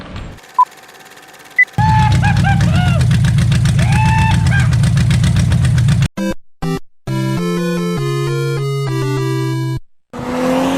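A Corvette's LS2 V8 fires up on its first start, then runs loud and rough with revving surges, cutting in and out in bursts before catching again with a steady, close idle-like roar.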